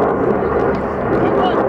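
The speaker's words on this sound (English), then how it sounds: "Airplane flying over." An airplane passes over an outdoor Legion baseball game, a steady, loud broadband roar that holds at an even level throughout.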